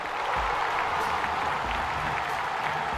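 Dense audience applause at a digital awards ceremony, steady and fairly loud from a large crowd, with a few faint whistles possible in the wash of clapping.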